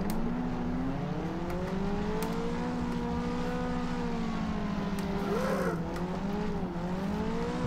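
Naturally aspirated SR20DE engine of a 1996 Nissan 180SX S13 in Assetto Corsa, a steady loud drone rising and falling through revs with a shift dip midway, no voices.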